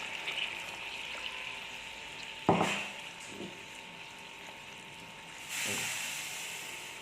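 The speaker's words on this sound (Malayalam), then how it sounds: "കട്ടിപ്പാൽ ഇതിലോട്ട് ഒഴിച്ചു കൊടുക്കണം" Thick coconut milk goes into a simmering kingfish molee curry and is stirred, heard as a soft bubbling hiss with a sudden knock and splash, then a brief swell of pouring later, all fairly quiet.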